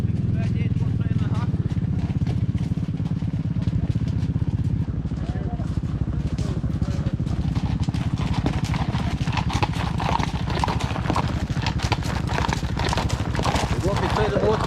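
Steady clip-clopping of horses' hooves on pavement in Limerick, fairly close and continuous, with people talking over it.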